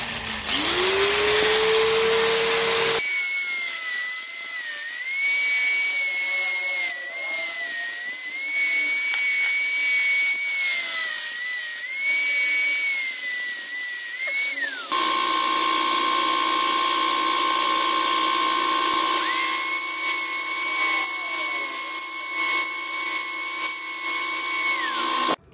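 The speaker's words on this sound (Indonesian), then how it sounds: "untuk cara pelepasan dari plat tipis seperti ini, kita gerinda dulu bagian ininya" Angle grinder cutting into the thin metal backing plate of a worn brake shoe lining from a scooter's rear drum brake, a loud continuous high whine that shifts pitch as the disc bites, steady throughout.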